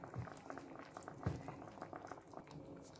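Salmon sinigang broth bubbling in a pot over a strong flame, a steady soft roiling boil with faint murmured talk beneath.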